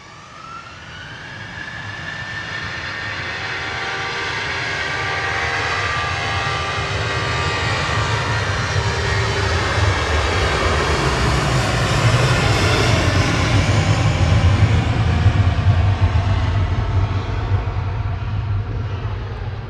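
A TUI airliner arriving at Manchester Airport, its jet engine roar building steadily and staying loud and close for the whole stretch, with broadband whine and a low rumble.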